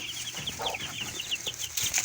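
Chickens, including two roosters, cluck and chatter nearby in a quick series of short calls, with a little rustling around them.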